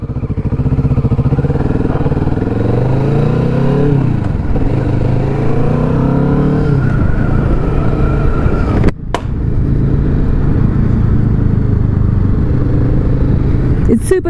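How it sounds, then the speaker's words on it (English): A Kawasaki Vulcan S 650 cruiser motorcycle engine runs steadily and loudly, rising and falling in pitch as it revs through gears, with a brief sharp break near the middle that fits a gear-change clunk, then a steady drone. "it sounds like a cruiser, doesn't it? And it has clunks on changing gear."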